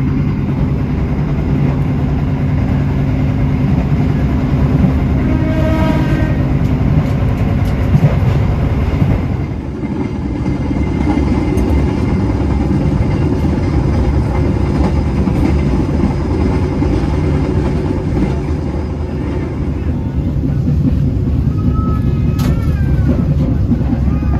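Continuous low rumble and rhythmic clatter of a train rolling along rails, loud and steady throughout, with faint squeals from the wheels.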